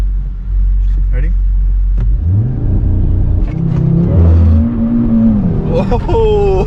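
A rebuilt 2019 Audi RS3 with a Unitronic tune revs hard and accelerates in second gear, a loud rising engine roar with a gear change, close by and dominating, while voices are faintly present.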